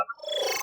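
Layered glitch design for animation, with a tonal flickering sound arriving first and a stuttering one close behind, merging into a bright, buzzing, crackly digital texture that swells briefly and fades.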